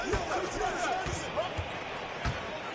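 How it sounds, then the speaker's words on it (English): A basketball slam dunk in the NBA 2K22 video game under steady play-by-play commentary, with dull thuds of the ball and squeaky sneakers over a constant crowd murmur. "And Kemp slams it in."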